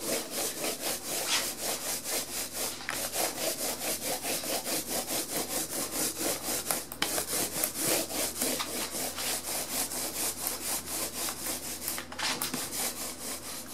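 A paint roller rubs back and forth over vinyl PVC projector screen material, a steady rhythmic scraping swish repeating about twice a second, close and continuous with no talk.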